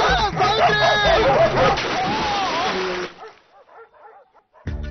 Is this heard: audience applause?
no